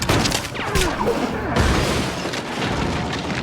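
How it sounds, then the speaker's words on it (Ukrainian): A gunshot booms from the game Little Nightmares 2, a loud, dense blast with a rumbling tail that fills the whole moment, with no voice over it. "Постріл."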